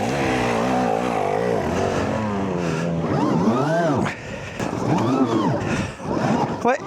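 An electric Artic Leopard motorcycle ridden in a video game gives off a whining motor tone that swoops up and down in pitch as it accelerates and slows, steady and close, with a voice talking over parts of it.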